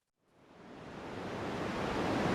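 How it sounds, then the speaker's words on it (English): White noise played from an online video fades in quickly and then holds as a steady, broadband hiss that rises slightly in loudness, with no other sounds. "Let's go white noise."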